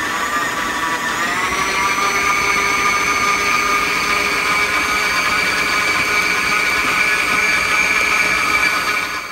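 GeekChef stand mixer creaming ingredients, a steady loud motor whine that rises in pitch about a second in as the speed is increased, then holds constant.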